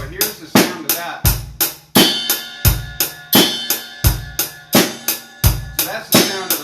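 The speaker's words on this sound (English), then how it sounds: "So that's the sound of the ride cymbal." A steady drum kit pattern with bright, ringing metallic hits on the bell of a ride cymbal, played over kick and snare strokes at close range.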